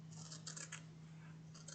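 Scissors snipping through a thin fabric Christmas stocking, a few quiet, close crisp cuts in quick succession over a low steady hum, with no talk.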